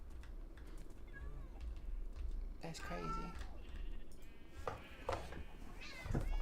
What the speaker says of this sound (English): I love the cats in this game.